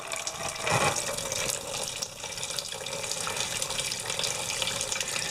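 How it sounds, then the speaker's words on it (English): Antifreeze from a 1998 Chevy truck gushes steadily into a pail with a loud, continuous splashing pour, close by and without speech. "the antifreeze is going to come shooting out of there"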